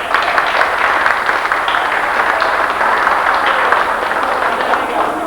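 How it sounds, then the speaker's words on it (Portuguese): A crowd applauds steadily, a dense wash of many hands clapping at an even level for several seconds. "Vamos uma salva de palmas para ele."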